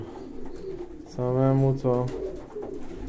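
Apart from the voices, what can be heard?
pigeons cooing indoors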